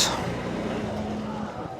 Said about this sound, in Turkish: Az trafik var.